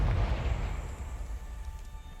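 Confringo spell explosion in a Harry Potter video game, a heavy low boom at the start that rumbles and fades over a couple of seconds.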